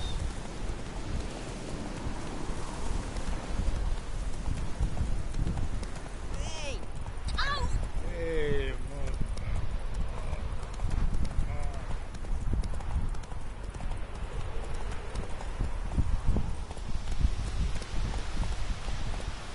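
Roach the horse in Witcher 3 gallops in a steady clip-clop of hooves over rain patter, with someone talking at times and a brief whinny midway.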